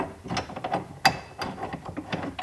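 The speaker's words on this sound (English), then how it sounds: "screw these bolts right into these cone nuts" Bolts are screwed into cone nuts while fitting a bike rack to a Rivian R1T pickup. The close, rapid mechanical clicking comes in short ratcheting bursts with a brief pause between them.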